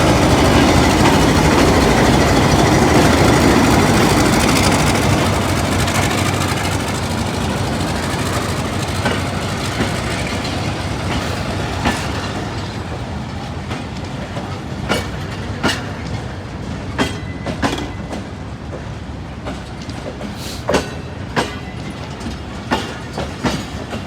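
Hazara Express passenger train hauled by locomotive PH 28319 rumbles past loudly and steadily, a dense roar of wheels and cars that slowly eases off into rhythmic clickety-clack wheel beats over rail joints.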